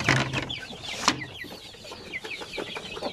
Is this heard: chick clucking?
yes